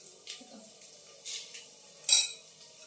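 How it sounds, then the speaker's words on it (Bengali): Rice stirred with ghee and bay leaves in a pot, giving a few soft scrapes and one sharper metallic clink from the utensil, close and fairly quiet. "একটুখানি নাড়াচাড়া করবো।"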